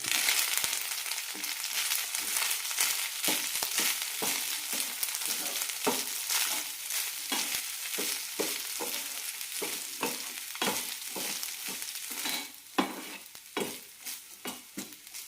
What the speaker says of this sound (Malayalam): നന്നായി മിക്സ് ചെയ്യാം.